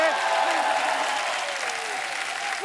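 A television comedy show studio audience claps loudly for a film team, a dense continuous burst of applause with some crowd noise, while faint musical tones sweep underneath.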